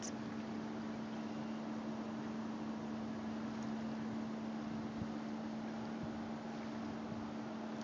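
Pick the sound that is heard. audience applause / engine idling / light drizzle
engine idling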